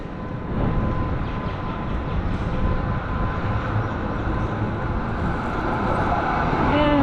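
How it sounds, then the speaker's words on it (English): A Melbourne tram rolls along a city street in a steady, broad rumble of wheels and traffic that swells slightly near the end, close by and continuous, with no talking. "So here we go, a bit of tram action."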